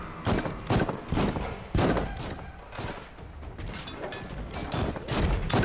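Gunfire from a Marvel What If...? animated episode, a sustained fusillade of repeated sharp shots and thuds in irregular bursts across the whole clip, loud and close.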